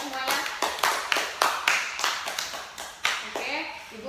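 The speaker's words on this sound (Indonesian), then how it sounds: "beri tepuk tangan untuk kita semuanya" A classroom of students applauds together, a burst of irregular hand claps with sharp repeated slaps, close and lively, with some voices mixed in.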